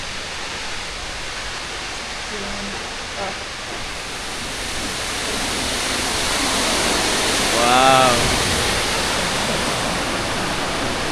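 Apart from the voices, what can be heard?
large waterfall, Materuni Waterfalls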